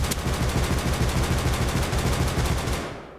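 Sustained automatic fire from an LR-300 rifle in the video game Rust, shot unaimed: a rapid, unbroken stream of loud, even shots for about three seconds, then an abrupt stop with a brief decay.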